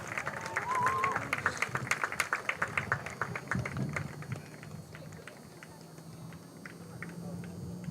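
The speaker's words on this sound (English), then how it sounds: "let's give a big round of applause for Lorenzo Fede-Pallone" Crowd of Georgetown soccer fans applauds an honoree at a men's soccer match, a burst of clapping and cheering in the first few seconds that fades into general crowd murmur.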